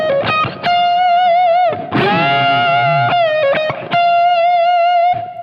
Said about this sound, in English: you can really get the vibrato in there because it's a lot harder to do with your hand versus doing it with the tremolo rod